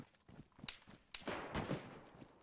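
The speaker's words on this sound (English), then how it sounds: "There's multiple gunshots, dude." Several gunshots in a video game, sharp isolated cracks with gaps between them, followed by a louder flurry of shots and rumbling noise.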